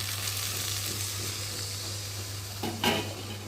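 Water poured into frying mustard paste in a pan while cooking taro stolon curry, a steady close sizzle that briefly flares near the end, with no voices.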